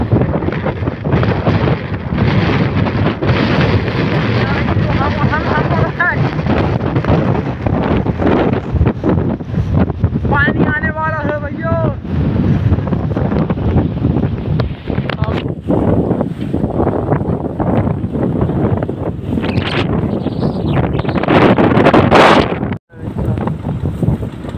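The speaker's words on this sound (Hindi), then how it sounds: "बहुत खतरनाक हवा है" Strong, gusty wind blasts loudly and continuously against the microphone outdoors under stormy clouds, a roaring rush with brief dips, and a voice is faintly heard beneath it.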